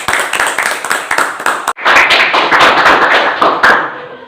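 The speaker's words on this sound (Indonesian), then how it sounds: "Kita kasih tepuk tangan dulu untuk Eti ya." Clapping for a presenter in a classroom teaching session, a dense run of handclaps from a group, fairly close and loud, with a brief break partway through before the clapping resumes and fades out.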